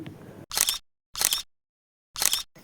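A camera shutter fires three separate times while group photos are taken at a puja gathering, each a crisp, close mechanical click-clack with short silent gaps between.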